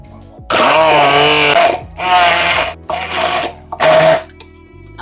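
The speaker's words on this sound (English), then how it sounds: "And now I'm just going to blend this up with a stick blender." Stick blender pureeing medjool dates with milk and a pinch of salt, four loud whirring bursts of varying length separated by short pauses, close up and with no voices.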